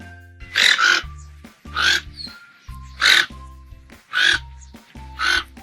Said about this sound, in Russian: туканы весьма шумные птицы, а их крик скорее напоминает кваканье, чем пение